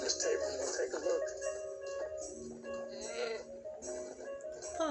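A goat bleats several times in wavering, nasal cries that rise and fall, close by, with people talking softly over and between the calls.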